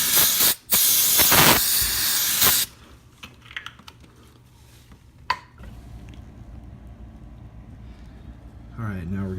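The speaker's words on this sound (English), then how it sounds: "I'll take the brake parts cleaner and I'll just clean up the residual oil" Brake parts cleaner sprays loudly in short hissing bursts to wash residual oil off a 2016 Hyundai Tucson 1.6L Turbo-GDI during an oil change, followed by quieter handling clatter and a voice speaking at the end.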